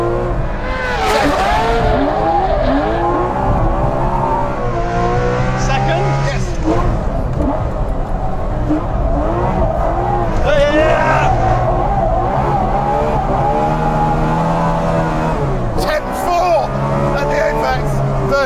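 A Porsche 911K by Tuthill is thrown into a hydraulic handbrake turn, its engine revving and rising in pitch over loud, continuous tyre noise and skidding, with people talking over it.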